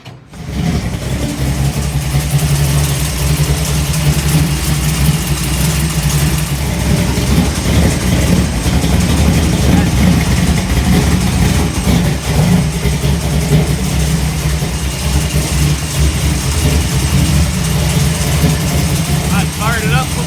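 A race car engine idles in a shop to warm up before an oil change, a loud, continuous low rumble with slight fluctuations, while people talk over it.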